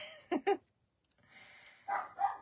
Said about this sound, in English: Sorry about my dog, y'all.